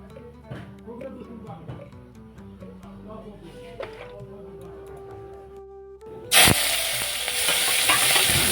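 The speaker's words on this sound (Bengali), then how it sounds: "এখন আমি শুকান মাছটা একটু ভেজে নিচ্ছি।" Dried fish hits hot oil in a pan and breaks into a loud, steady sizzle after a quieter stretch of stirring and soft background sound.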